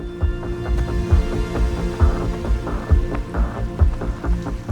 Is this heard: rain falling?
yes